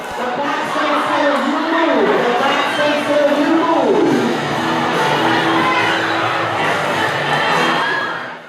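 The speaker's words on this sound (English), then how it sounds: "7th and 8th graders could be seen cheering their classmates on" Seventh and eighth grade students cheer their classmates on at a school gym day competition with tug of war and relay races, a loud, continuous crowd of young voices shouting and whooping throughout.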